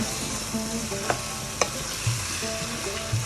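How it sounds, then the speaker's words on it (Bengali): Bottle gourd stalks and potato stir-fry in a pan, with a constant close sizzle and occasional sharp clicks of a spatula against the pan, and no one speaking. "লাউ শাকের ডাঁটা আর আলু দিয়ে আমি ভালোভাবে কষিয়ে নিব"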